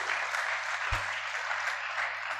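Audience applause for a guest lecturer and his wife at a distinguished alumni lecture, a continuous bright patter of many hands with one low thump near the start, steady to the end.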